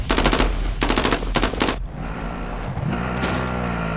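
Rapid automatic gunfire in the shooter game Call of Duty: Modern Warfare, loud bursts of fast rhythmic shots that stop abruptly, followed by a lower rumbling engine-like drone and a single distant crack.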